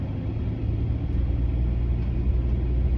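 A truck rumbles past close by, a steady loud low engine drone that fills the whole moment with no voices over it.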